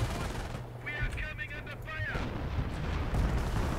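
Heavy rumbling artillery and mortar fire from the Company of Heroes battle game, a dense continuous barrage with whistling shells in the middle, loud and unbroken throughout.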